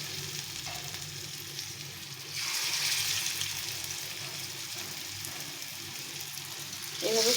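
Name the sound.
potato pieces frying in hot oil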